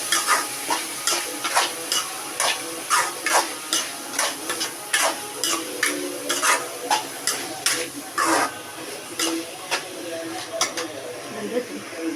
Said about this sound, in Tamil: இப்போ திரும்பி 5 நிமிஷத்துக்கு வதக்கணும் கைஸ்